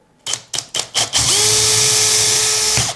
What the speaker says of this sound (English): I'm going to stick a sneaky drill bit